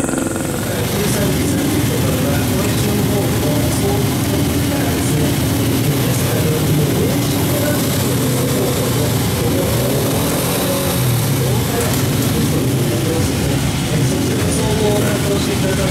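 A 1947 Honda Model A motorcycle engine runs steadily with a low, rumbling drone throughout, loud and close, with faint voices in the background.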